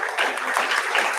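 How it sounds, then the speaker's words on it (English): An audience at a presentation night applauds the judges, a dense, even wash of clapping throughout the short moment. "can we get a round of applause for all of the judges?"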